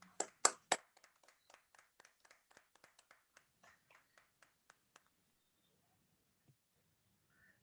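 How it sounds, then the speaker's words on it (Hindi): Applause from a small group starts with a few loud claps, then thins into sparse, scattered claps that fade out to silence. "जोरदार तालियों से स्वागत कीजिए"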